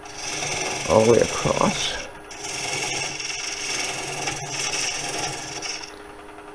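A lathe tool cuts a rainbow poplar wood bowl rough-out with a steady scraping rasp that eases off for a moment and then continues, while someone speaks briefly near the start.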